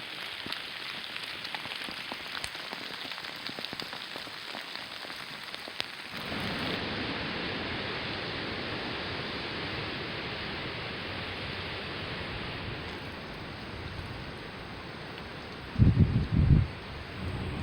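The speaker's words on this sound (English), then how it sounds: "I'm getting poured on right now." Heavy rain pours down outdoors during a Minnesota firearm deer hunt, a steady dense hiss of drops on leaves and surfaces that swells louder partway through, with a few brief thumps near the end.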